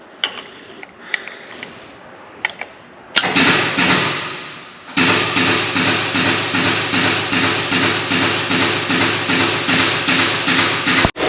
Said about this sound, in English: Ignore the loud air compressor